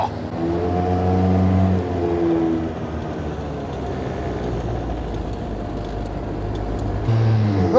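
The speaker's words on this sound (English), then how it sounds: "I'm spinning the wheels." A go-kart's engine runs loud and steady on a Tokyo street as its wheels spin, with a rising whine near the start and end over constant road and traffic noise.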